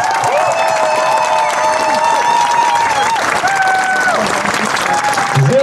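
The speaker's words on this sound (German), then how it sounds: "Einmal Applaus bitte für euch alle selber." A large crowd at a street demonstration in Cologne applauds steadily for several seconds, dense clapping with some cheering and voices mixed in, loud and close.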